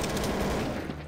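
Gunfire from a player running around shooting: a brief, fairly faint rattle of rapid shots over a steady background din, lasting about a second.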